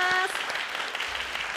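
An audience at a photography workshop with para-athletes breaks into applause after a short tone, the clapping steady and moderately loud throughout.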